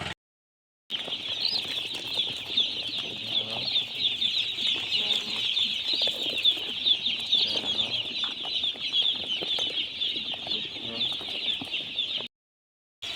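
Broiler chicks in a farm brooder on a cold day keep up a dense, steady chorus of high chirping, many birds peeping together without pause at close range.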